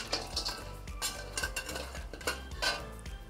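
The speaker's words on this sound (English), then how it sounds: "And stir fry until this rock sugar dissolve." Pork ribs and dissolving rock sugar are stir-fried in a pan, giving repeated clattering scrapes and knocks of a utensil against metal at an irregular rhythm, close and fairly loud, with faint cooking noise underneath.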